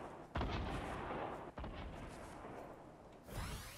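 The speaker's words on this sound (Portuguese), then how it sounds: "Vou jogar granada nele lá, cara" A grenade blast in the battle royale video game Fortnite, a heavy boom opening a sustained roar of game noise, with a second sharper burst mid-way and another loud hit near the end.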